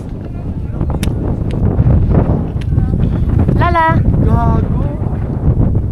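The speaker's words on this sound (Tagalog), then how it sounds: "So, super na yung hangin." Strong wind on Mt Batulao buffets the microphone with a steady low roar throughout, while people talk and a voice rises over it.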